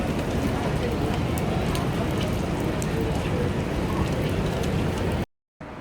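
Steady rain falling on a New York City street, a dense even hiss with scattered drops and faint city noise, cut off briefly near the end.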